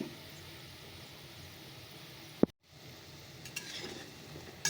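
Banana fritters frying in hot oil give a steady soft sizzle and crackle, with a sharp clink of a utensil partway through and a few light taps afterward, no talk.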